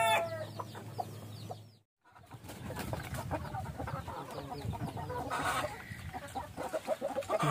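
Pet chickens cluck and murmur near their egg-filled nests, a steady mix of close, moderate clucks with a brief pause partway through and occasional sharper calls toward the end.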